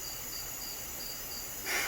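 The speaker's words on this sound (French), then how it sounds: "Mais c'est un sauterelle" A giant grasshopper in Costa Rica makes a continuous, high, buzzing insect drone, steady and fairly close, with a brief burst of brighter noise near the end.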